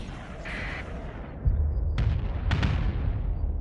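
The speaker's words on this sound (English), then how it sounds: "It's shooting two missiles at a time." Missile impacts in the space combat game Starsector, heard as a low rumbling backdrop that turns into a couple of sharp booming hits close together, loud and without talk.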